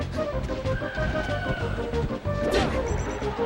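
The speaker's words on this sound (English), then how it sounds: "Jake and Shaken with these confident F smashes" A forward smash lands in a Super Smash Bros. Melee crew match at a tournament, a sharp crash over steady game music and arena noise, followed by a second bright impact near the end.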